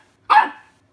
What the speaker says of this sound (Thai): อย่าเห่าอย่าเห่าเขาสิรำคาญ